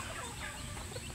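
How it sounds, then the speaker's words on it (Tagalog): A backyard rooster clucks softly amid constant noisy outdoor background, the calls low and blended rather than standing out. "Ito aking mabait na tandang mga guardian."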